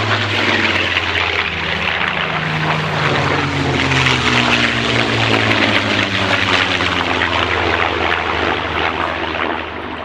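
Supermarine Spitfire fighter with its V12 aircraft engine roaring past, a loud, steady propeller drone with harmonic tones that shift in pitch as the plane passes, filling the whole stretch without voices.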